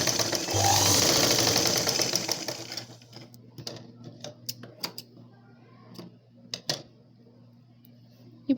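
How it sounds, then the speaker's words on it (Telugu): A sewing machine stitches a plain blouse in a long continuous whirring run, then stops and continues in short separate bursts of stitching. "ప్లెయిన్ బ్లౌజ్ ఇప్పుడు డాట్స్ ఉన్న వైపు నుంచి నేను స్టిచ్చింగ్ చేస్తున్నాను"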